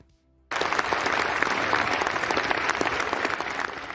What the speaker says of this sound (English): And look at them, they're clapping.